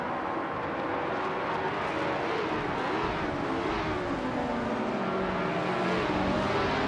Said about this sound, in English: Shadow Army is driving a 1965B RMP2 61T.